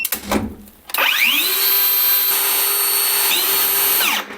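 A Procraft PCA42/2 cordless chainsaw whirs up to a steady high-pitched whine on first start, runs evenly for a few seconds, dips briefly, then winds down; loud and close.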